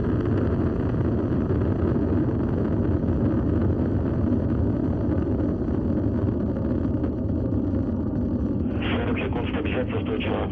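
A Soyuz MS-06 rocket lifts off with its four first-stage boosters and core engine, a constant, dense roar of thrust filling the whole stretch while a voice talks over it.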